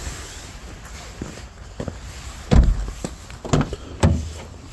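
The door of a Lincoln Town Car sedan swings open, with a few soft clicks and thumps, then heavier latch and handling knocks close by, under a quiet outdoor background.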